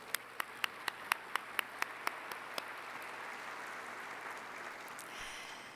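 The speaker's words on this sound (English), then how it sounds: "another big round of applause," Crowd applause at the closing ceremony of the 15th World Forestry Congress opens with a run of loud, evenly spaced single claps, then settles into a dense, steady roar of many hands that fades gently.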